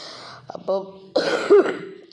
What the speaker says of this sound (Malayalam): ചുമയുണ്ട് ഗൈസ്